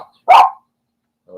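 A single sharp dog bark rings out close by in an indoor room, followed by a brief fainter yelp, with silence between.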